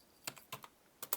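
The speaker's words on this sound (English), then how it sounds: "So I'm going to type in." A computer keyboard typed on in a quiet room, with about five soft, close keystrokes in an uneven rhythm: two pairs and a single tap.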